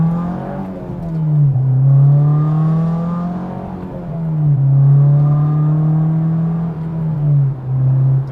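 Honda S2000 fitted with an Invidia Q300 exhaust, heard from inside the cabin as the engine hums and revs in steady rising and falling swells, a loud droning tone with no talking.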